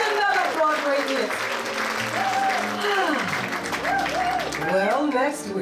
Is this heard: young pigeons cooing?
no